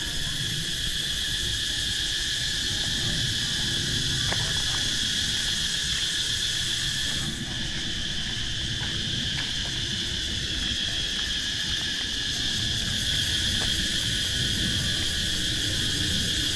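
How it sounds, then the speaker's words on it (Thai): Cicadas drone outdoors on the grounds of the Lao Art Museum in Laos: a continuous, fairly faint high-pitched buzz with occasional soft clicks and no talking. "ได้ยินเสียงแมงจักจั่น"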